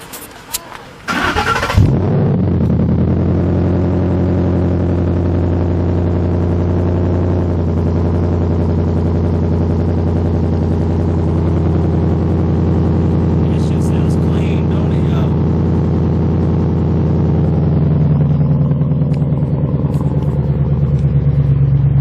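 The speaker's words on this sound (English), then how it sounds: "I'll start it up real quick." A Ford Mustang GT with a 5.0 V8 cranks briefly and fires into a loud, deep, rumbling idle that holds steady and close for the rest of the clip, with a few faint clicks partway through.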